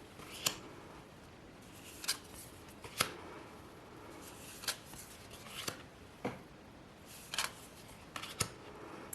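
Tarot cards from the Modern Love Tarot deck being shuffled and handled, quiet with sharp riffling snaps at irregular intervals, close and alone.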